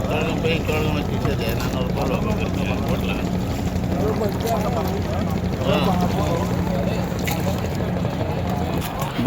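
A motor boat on the river at the Prayagraj Sangam, where the Ganga and Yamuna meet, drones steadily with a close, continuous engine hum while people talk over it.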